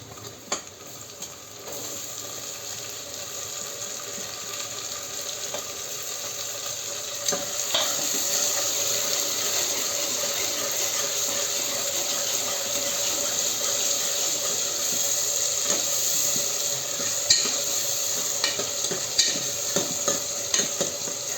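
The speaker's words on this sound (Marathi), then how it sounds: "आता मी ह्याच्यामध्ये टमाटे घालून घेते" Tomatoes tipped into golden-brown fried onions in a hot pan, sizzling loudly and steadily while a spoon stirs and scrapes through them, with no talking over the continuous frying.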